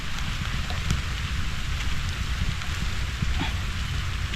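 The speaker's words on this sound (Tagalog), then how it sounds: "Ayan na naman ang ulan guys." Steady rain falls continuously on a countryside vegetable farm, a dense hiss with scattered drop taps and a low rumble underneath, no voices.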